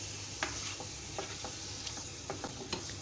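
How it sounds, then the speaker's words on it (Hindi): Beef liver pieces frying over low flame in a pan, a steady soft sizzle with occasional stirring clicks and scrapes, close and alone. "ये इतना फ्राई करना है कि ये ब्लड सारा ख़त्म हो जाए और कलेजी अच्छी तरह से फ्राई हो जाए"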